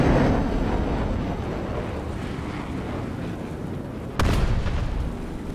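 A tank cannon fires in a video game, one sharp, loud blast standing out near the end over steady rumbling engine and wind noise.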